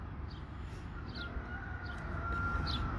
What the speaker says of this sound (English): We are glad for that rooster to wake us up this morning.